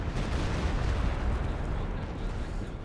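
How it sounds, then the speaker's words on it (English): A Panzerwerfer rocket artillery barrage in a World War II real-time strategy game, a dense continuous rumbling roar of launches and explosions filling the whole stretch, loud and sustained. "1 man lives out of that Panzerwerfer shot"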